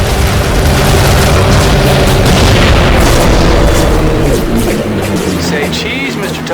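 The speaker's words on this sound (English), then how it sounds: "Ought to go off nicely when we drop an incendiary on it." Incendiary bomb setting off a main supply dump in the WWII flight game Heroes of the Pacific: loud, sustained rumbling explosions fill the scene and fade slightly toward the end, with game voice chatter mixed in.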